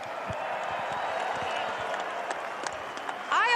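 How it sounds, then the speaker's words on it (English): Fans at the ReliaQuest Bowl football game between Vanderbilt and Iowa keep up a steady crowd roar and applause in a stadium, with a brief whoop or whistle near the end. "Round of applause for both Vanderbilt and Iowa today"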